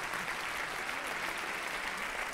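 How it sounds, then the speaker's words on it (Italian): Applause from the audience at a Christmas concert, an even, sustained wash of many hands clapping, heard at a moderate distance and fairly quiet, with no talk over it. "un applauso a tutti"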